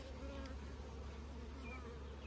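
Steady, close buzzing of many honeybees during a hive inspection, a dense continuous hum with no voices.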